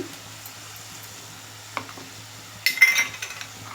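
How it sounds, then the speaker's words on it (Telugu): Curry leaves and ginger garlic paste fry in a pan for a stuffed eggplant curry, giving a faint steady sizzle, then a louder burst of stirring and light utensil clinks near the end. "ఇప్పుడు ఇందులోనే నేను కరివేపాకు వేస్తున్నాను."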